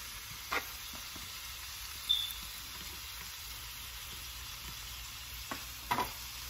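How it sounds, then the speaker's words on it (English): Shrimp and crab seasoned with smoked paprika and Creole mix cook in a pan with a soft, steady low sizzle, broken by a few brief stirring scrapes and clicks, no talking. "we want to just cook the shrimp till it's just pink"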